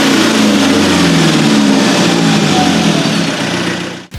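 A Toyota Revo Fortuner with a ball-bearing turbo and variable boost revs loudly nearby, its engine roar rising and holding steady before the throttle drops and a brief faint blow-off hiss follows.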